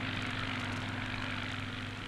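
Propeller aircraft engine drone, a steady low hum with a droning tone that holds constant throughout, like a plane passing overhead while monitoring for radioactive fallout after the 1955 Wigwam deep underwater nuclear test.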